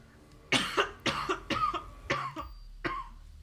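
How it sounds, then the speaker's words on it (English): Someone with a cold coughs repeatedly, with six or seven harsh, close coughs in an uneven burst that ends with one last cough after a short pause. No speech. "I'm gonna cough real quick."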